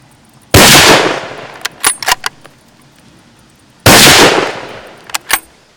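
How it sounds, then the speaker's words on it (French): Two gunshots at a test-shooting session, each a loud sharp blast with a decaying tail, a few seconds apart, followed by short clicks and clatter. "C'est le moment de passer au tir."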